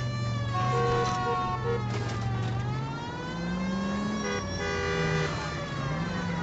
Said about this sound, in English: I know y'all hear the sirens